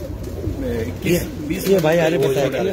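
Pigeons coo in low, rolling, throaty calls on a rooftop where pigeon keepers are flying their birds, close and repeated under a voice talking.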